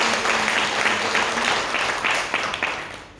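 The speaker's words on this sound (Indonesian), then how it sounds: "Tepuk tangan untuk Tuhan" Applause from a congregation at a Pentecostal church service in Makassar, a dense, steady patter of many hands clapping together, fairly close, with faint voices beneath before it thins out at the end.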